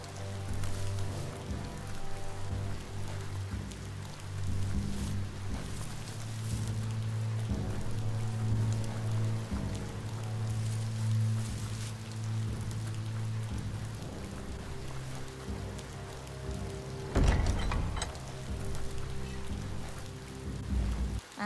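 Rain falls steadily in the video game Biomutant, a constant wash of hiss under a low humming musical drone, with a louder burst near the end.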